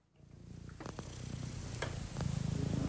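A Turkish cat purrs steadily up close, a soft continuous rumble that grows a little louder and more even as it goes on, with no voices over it.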